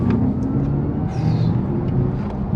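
An Audi RS e-tron GT electric car accelerates hard, heard from inside as a steady low rumble and whir that holds at constant loudness with a faint rising whine over its length.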